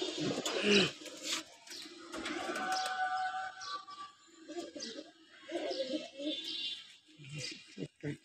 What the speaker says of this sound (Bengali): তো আমার খুবই একটা পছন্দের কবুতর, সবগুলো দেখেন।